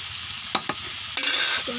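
Food sizzling in a hot frying pan as it is stirred, with a steady hiss broken by a few sharp scraping and clattering strokes of the utensil, close and fairly loud.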